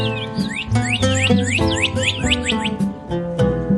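Cardinals in a birch forest give rapid, repeated whistled sweeps, loud and close, over a steady tonal background like soft music.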